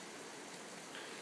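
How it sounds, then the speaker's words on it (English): Heavy rain pours steadily, a dense continuous hiss that stays even and fairly soft throughout with no other sounds on top. "if you can probably hear it in the background, a whole heap of rain, man, falling down from the heavens."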